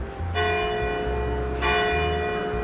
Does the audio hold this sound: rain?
no